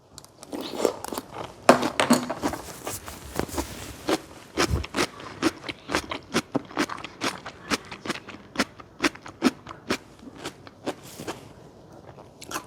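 Loud, crisp crunching bites repeat in a steady rhythm, close to the ear, as pickled new onion is chewed, with no talking.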